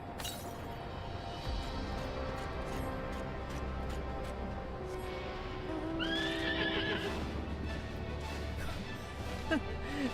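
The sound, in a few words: horse neighing in the video game Final Fantasy XIV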